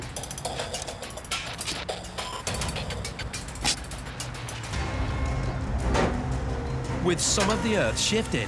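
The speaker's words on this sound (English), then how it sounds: "Mateusz cranks up the winch once again." A winch grinds and ratchets with mechanical clicks and creaks as it is cranked on a rescue truck pulling a crashed 40-tonne truck from a muddy ditch, under steady engine rumble while people talk.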